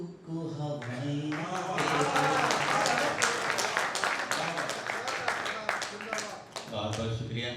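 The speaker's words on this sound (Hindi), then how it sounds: "इतने कम लोगों में इतनी तालियां मिल गई" An audience claps together at a small Hindi poetry gathering held on the eve of Holi, a steady round of applause lasting several seconds with a voice speaking over it.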